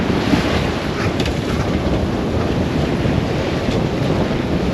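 Sea waves and gusting wind around a sailing boat on a choppy passage toward Ibiza and Formentera, a dense constant rush of water and wind buffeting the microphone, loud and unbroken, with no talking.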